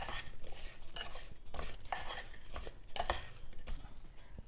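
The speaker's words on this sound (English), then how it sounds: "I'm just gonna kind of toss this lightly in this bowl" Carrots are tossed lightly in a bowl with a butter and brown sugar mixture, making quiet, rhythmic bursts of soft scraping and clinking close by.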